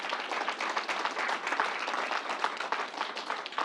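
Applause for a National Guard vaccination group at a Syracuse vaccination site, a steady, dense wash of clapping from a crowd, fairly faint and even throughout with no voices.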